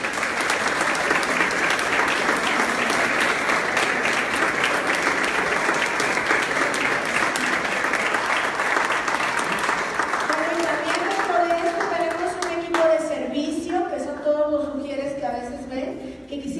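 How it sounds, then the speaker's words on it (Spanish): A church congregation applauds its leaders with sustained, dense clapping that fills the space for about ten seconds, then thins out as a voice begins speaking over the last few claps. "Denle un aplauso a estos líderes."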